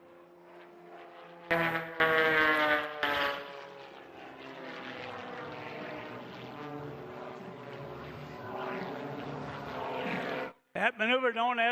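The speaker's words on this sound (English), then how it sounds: "First pulling up, rolling the aircraft, snapping the aircraft, getting maximum altitude upside down, and then arcing around." An aerobatic airplane flies a reverse Cuban eight at an air show, its propeller engine droning and shifting pitch continuously through the maneuver, with loud bursts near the start and a brief cutout near the end.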